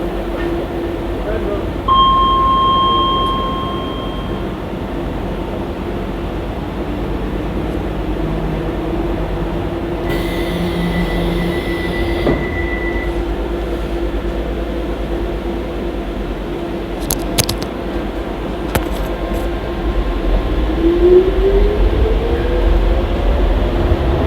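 A DLR light metro train rumbles steadily along with a constant low roar and faint squeals of wheels on track, with an onboard announcement voice heard briefly over the running noise.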